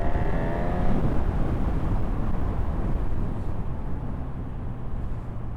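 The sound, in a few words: 2025 Honda CB1000 Hornet motorcycle engine accelerating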